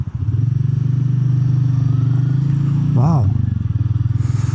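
A Royal Enfield Meteor 350 motorcycle rumbles at a steady, close, low idle-like putter through most of the stretch, with a short exclamation from a rider partway through.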